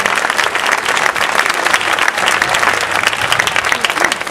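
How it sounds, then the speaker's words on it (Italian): An outdoor audience at a band concert applauds the Junior Band, giving a dense, steady burst of clapping from many hands with no talk over it. "chiederei ancora un applauso alla Junior Band che sono il futuro del nostro corpo bandistico"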